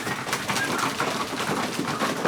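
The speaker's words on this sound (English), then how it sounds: "I've got 41 pigeons here now." Pigeons in a loft of about forty birds coo softly and repeatedly, a continuous murmuring chorus close by with no speech.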